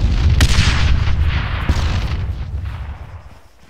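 A vehicle blown apart by an explosion in the military game Arma 3 gives loud booming blasts with a sharp crack near the start and another partway through. A heavy rumble slowly fades after them.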